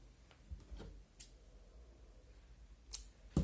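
Scissors snipping knitting yarn while finishing a baby's knitted dress, a few quiet close snips and clicks over a soft hiss.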